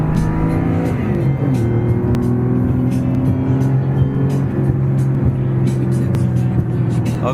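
A Safari-style Porsche 911 project car drives on a test run, its engine droning loud and close from inside the car with shifting revs and road rumble throughout.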